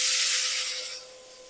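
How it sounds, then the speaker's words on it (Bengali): Chopped onion dropped into hot oil in a wok gives a loud, steady sizzling hiss that gradually fades over a second and a half, with no talking. "পেঁয়াজ কুচিটা দিয়ে দিলাম"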